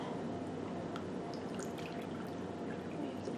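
A bleach and water mix, one part each, pours into a pitcher as a steady, soft liquid stream with faint drips, close by and alone.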